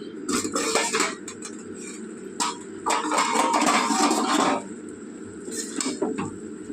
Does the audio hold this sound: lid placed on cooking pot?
yes